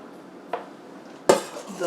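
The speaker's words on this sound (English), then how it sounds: "drop the dumplings into the pot" Dumplings dropped into a pot of boiling chicken-stock broth with soy sauce, sesame oil, sriracha, garlic and ginger give two distinct clinking splashes against the pot, with kitchen clatter between them.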